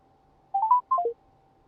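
Short burst of telephone keypad tones, two quick clusters of stepped beeps heard alone against a faint steady hum, fairly quiet and close.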